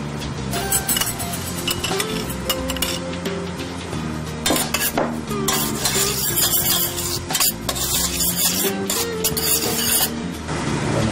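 Garlic and onion are stirred in olive oil in a pan, with a soft sizzle beneath repeated scraping and metallic clinks of the utensil against the pan, fairly loud and close.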